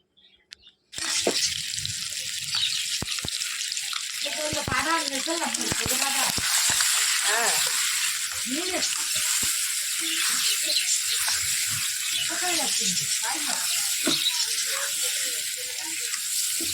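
Potatoes and eggs sizzle in a hot kadai, a loud, steady frying hiss that starts abruptly and continues close up, with stirring and faint talk beneath it.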